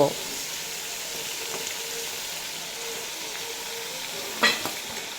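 Prawns fry in hot oil over a high flame, giving a steady soft sizzle throughout, with a brief utensil clatter near the end as they are stirred.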